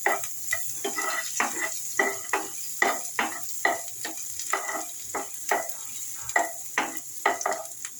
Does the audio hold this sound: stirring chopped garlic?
yes